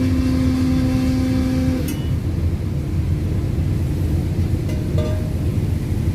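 Faulty starter motor with broken flywheel teeth on an idling car engine, a steady mechanical drone with a sustained whine that cuts off near two seconds, then a sharp click or clank near five seconds.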